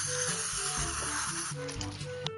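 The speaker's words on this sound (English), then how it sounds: "coat your pan with cooking spray" A steady hiss of cooking spray coating a pan runs for a couple of seconds over faint background music, fairly close and soft.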